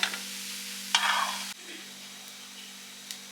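Upvas thalipith roasts on a pan over a low flame with a soft, steady close sizzle, a short scraping stir and a low hum, no voices.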